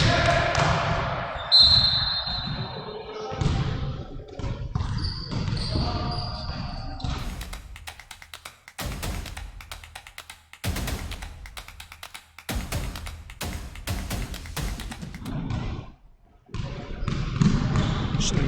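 A basketball bounces repeatedly on a gym floor during a high school game, with quick irregular dribbles and thuds under continuous play-by-play commentary and crowd noise.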